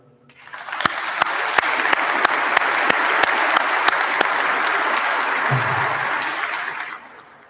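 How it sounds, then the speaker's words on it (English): A sustained round of applause from an audience at a fire chief's swearing-in ceremony, rising quickly, holding steady and fading out over several seconds with no talk over it. "So maybe for a second, a round of applause for the board of directors for what they've done."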